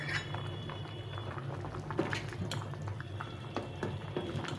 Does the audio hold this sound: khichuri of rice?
yes